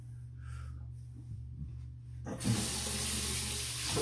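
Tap water starts running suddenly partway through and continues as a steady, close hiss into a sink for face rinsing during a straight-razor shave, after a quiet stretch of faint handling noises.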